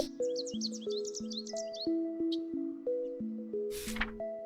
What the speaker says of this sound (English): The birds laugh at Jack and squawk loudly.